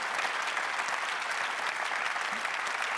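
Steady audience applause at an award ceremony in Caen, a dense, continuous patter of many hands at an even level from start to end with no pause.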